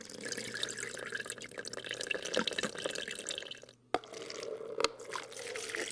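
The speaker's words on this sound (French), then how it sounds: "On verse une quantité d'eau identique sur un gros élément et sur du matériau fin de même poids." Water poured onto coarse and fine material in a demonstration, a steady close splashing and trickling with a brief break and a couple of sharp drips, no voices.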